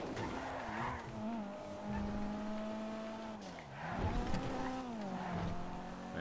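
Purple Tesla following behind near a pier in GTA RP, its engine whining in continuous rising and falling pitches with tire squeal, fairly close and sustained throughout.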